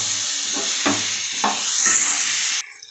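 Mango pieces frying in a pan for a sweet, sour and spicy pickle, giving a loud, close, steady hissing sizzle with a few soft stirring thumps before it cuts off abruptly near the end.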